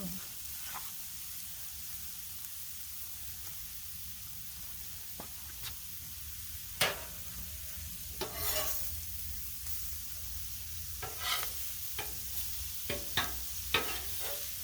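Smokies and shrimp frying on a Blackstone griddle give a steady, close sizzle, with occasional sharp scrapes and bursts of spatula stirring and louder hissing flare-ups.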